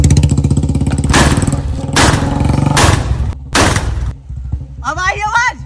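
Diwali firecrackers go off in three loud, sharp bursts over a humming engine-like drone, then a voice chatters at the end.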